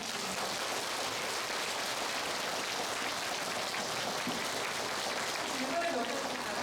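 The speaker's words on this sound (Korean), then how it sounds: "다시 한번 큰 박수 부탁드립니다" Audience applause after a dementia-prevention lecture at a district public talk series in Seodaemun, Seoul: a dense, steady wash of clapping that holds at an even level for several seconds without breaks.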